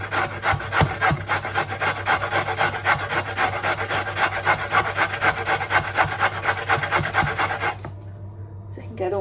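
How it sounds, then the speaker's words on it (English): Food being grated by hand on a kitchen grater while making homemade chicken nuggets and chips: a fast, regular run of rasping strokes close up that stops near the end. "Haven't got that out, so we're going to just go with the grater."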